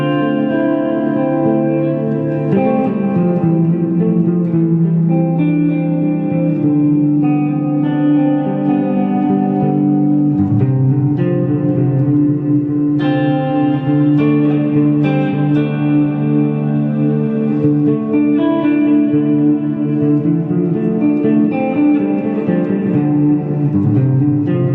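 Layered instrumental music through a Plethora X5 effects pedal, washed in heavy reverb and echoing delay, a dense, sustained ambient wall of sound that stays loud throughout.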